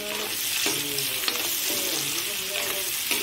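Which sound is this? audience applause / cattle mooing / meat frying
meat frying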